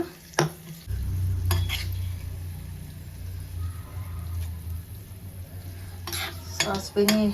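Mustard seed tempering fries in hot oil with a steady low sizzle, broken by sharp metal spoon clinks against the pan at the start and again near the end.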